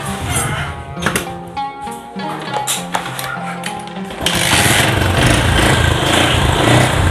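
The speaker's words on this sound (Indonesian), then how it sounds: "Motornya bisa hidup, tapi memang tidak normal ya teman-teman." A Yamaha Jupiter MX motorcycle with a fault cranks and fires up, its small engine sputtering unevenly in close, loud bursts before settling into a rough, continuous running drone.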